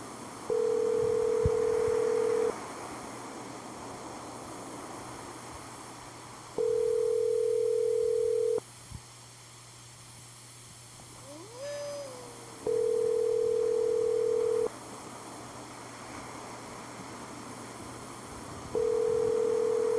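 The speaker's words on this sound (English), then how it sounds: "let's try to call Yellow Phone, see if he's gonna answer the phone" A steady electronic telephone tone sounds in long, evenly spaced bursts of about two seconds with pauses between, over a low background hum.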